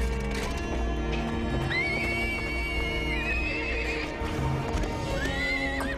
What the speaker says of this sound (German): Auf dem Basketballplatz ist ein Pferd.